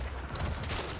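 Rapid gunfire from the Splitgate first-person shooter rattles through a dense, steady wash of game sound, shots blurring together into a continuous burst with no distinct single report.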